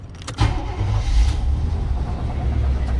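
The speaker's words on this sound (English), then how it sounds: "Now I'm going to turn the car on." A car engine cranks and catches, then settles into a steady idle rumble that stays loud and continuous for a few seconds, with no talking.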